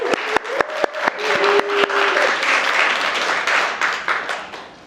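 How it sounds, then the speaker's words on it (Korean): A church congregation breaks into sustained applause, starting with a few sharp individual claps that swell into a dense, steady roar of many hands, with a brief tonal voice early on. "이 박수 소리가 큰 거는 도대체 무슨 의미지?"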